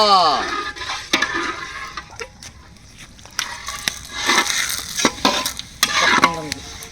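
Dry red chillies and bay leaf sizzling in hot mustard oil in a pan, a steady broadband fry with scattered clinks and stirring scrapes, someone talking over it.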